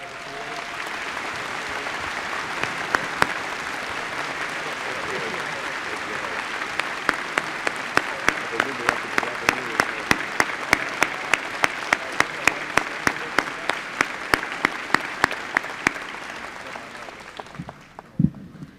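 Sustained audience applause at a fall university commencement ceremony, a dense steady wash of many hands clapping that holds for most of the stretch, with sharper individual claps standing out toward the end before it fades out.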